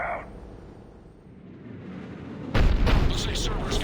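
A Cerberus cannon fires in Mass Effect 3: after a quiet low rumble, a single loud, deep boom bursts in partway through and rolls on with heavy low-end sustain.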